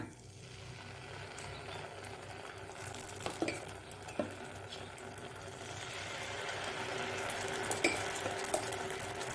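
Jowar appe batter frying in an appe pan, a faint, soft sizzle that grows gradually louder, with a few light clicks of a utensil against the pan.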